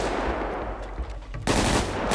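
Gunfire in GTA 5 roleplay, with scattered sharp shots followed by a loud sustained burst of rapid automatic fire toward the end, no talking during it.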